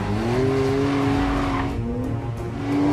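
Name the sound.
Porsche 911 Carrera GTS braking hard on a race circuit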